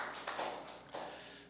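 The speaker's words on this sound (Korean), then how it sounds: "우리 모든 영광 주님께 박수로 올려드리겠습니다" A church congregation at a Sunday worship service claps in praise, a dense, steady patter of many hands filling the room for a brief moment.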